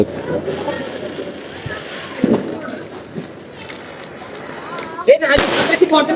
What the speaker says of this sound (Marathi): फटाके वगैरे फोडत